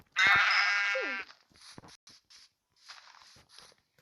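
Sheep gives one loud, close bleat that trails off, followed by quieter shuffling and scattered movement sounds.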